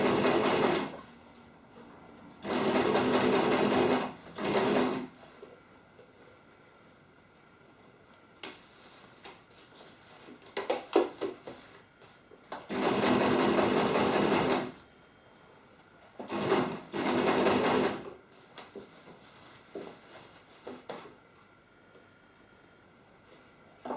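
A sewing machine stitches fabric in several loud, steady runs of a few seconds each, separated by quiet pauses filled with small clicks and handling noises.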